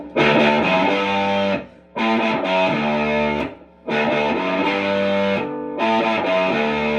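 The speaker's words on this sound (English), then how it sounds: "this gives you the driving, fuzzing rhythm" Heavily distorted electric guitar played through a Mostly Harmless Effects Griffin fuzz pedal chugs out a driving rhythm in long, loud phrases with brief gaps between them, thick and saturated with no voices.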